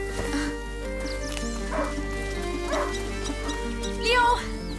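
A hunting dog barking and whimpering in the video game A Plague Tale: Innocence, a few spaced yips and barks at mid-distance over a steady ambient game hum and music bed.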